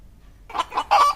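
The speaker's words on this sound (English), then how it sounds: "chickens," Chickens clucking close by, a few short, choppy bursts coming in quick succession after a brief quiet start.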